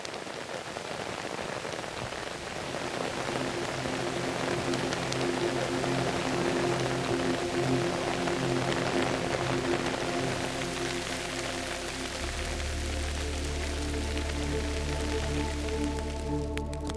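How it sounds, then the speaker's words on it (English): Rain falls steadily in a dense, even hiss across the whole stretch, with a low hum rising underneath toward the end. "How important is this rain that we're feeling right now to this community?"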